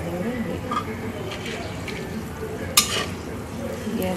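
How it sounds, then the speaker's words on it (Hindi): Cloves, cardamom and pepper frying in a pan, with a faint steady crackle and brief stirring scrapes. One sharp clink of a utensil comes near the end, and there may be faint voices in the background. "ये अच्छे से फ्राई होगा।"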